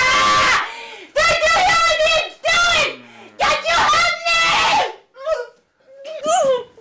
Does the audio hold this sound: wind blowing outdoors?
no